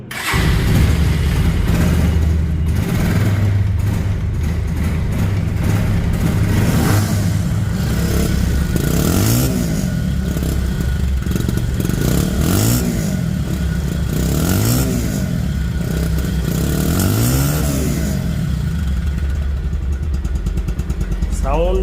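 A Pulsar ABS motorcycle in showroom condition runs close by with a loud, steady engine drone and several rising revs. No one speaks.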